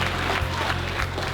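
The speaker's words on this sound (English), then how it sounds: "Give yourself a round of applause." Eighth-grade students at a school assembly clap together in a dense, steady wash of applause that runs evenly throughout, with a low hum underneath and a few brief rises in volume.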